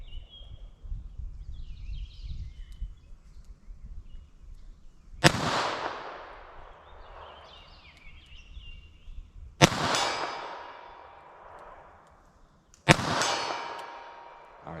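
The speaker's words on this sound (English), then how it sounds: "fire a few rounds just for some fun" Three sharp, loud reports from a .32 S&W Long revolver fired at a target 40 yards away, each separated by a few seconds and followed by a ringing, decaying echo over quiet outdoor background.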